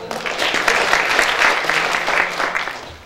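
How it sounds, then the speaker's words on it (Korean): An audience at a public hearing on parking and traffic order claps to welcome a guest speaker, a full, close burst of applause that rises, holds for about three seconds, then eases off. "여러분 큰 박수로 환영해 주시기 바랍니다"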